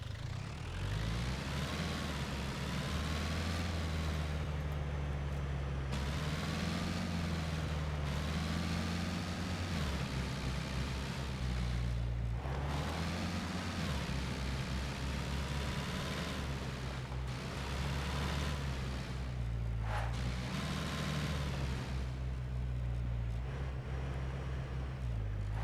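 A car engine idles steadily in the survival game SCUM, a constant loud low rumble with harmonic drone and slight pitch shifts, left running alone throughout with no talk.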